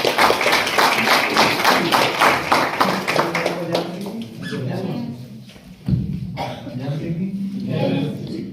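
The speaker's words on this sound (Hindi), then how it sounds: "ताली बजाएं।" Guests at a Christian wedding break into applause, a dense burst of clapping that fades away after a few seconds, followed by someone speaking to the gathering.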